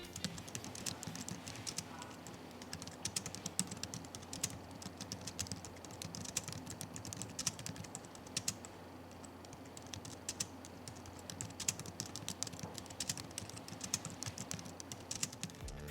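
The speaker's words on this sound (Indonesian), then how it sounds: "contoh suara feedback dari semua tombol yang ada di keyboard ini" Rapid, soft typing on a Logitech MX Keys S silent keyboard clatters on steadily and evenly for a long stretch, the keystrokes muted and close, with no talking.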